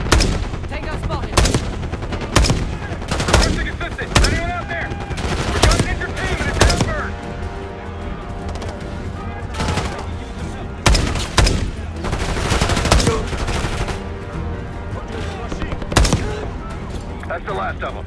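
Heavy gunfire in Call of Duty: Black Ops 6 gameplay, loud bursts of automatic fire and single shots cracking repeatedly throughout, with explosions mixed in and voices talking under the barrage.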